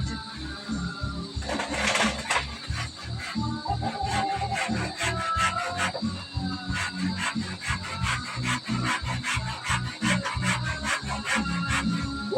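A hand saw cuts through wood with steady, rapid back-and-forth rasping strokes, close and continuous for the whole stretch, with faint bird calls in the background.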